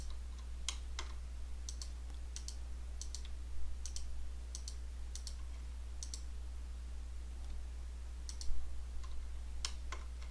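A computer mouse clicks sharply and repeatedly in a quiet room, single and double clicks at irregular intervals over a constant low electrical hum.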